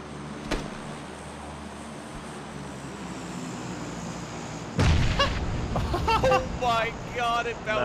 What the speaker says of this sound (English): the nade perfectly bounced off the floor and popped right in front of this guy